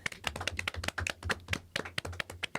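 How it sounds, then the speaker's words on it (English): A few people in a small podcast audience give a short, sparse round of applause, with close, distinct hand claps in an uneven rhythm. "So please, round of applause."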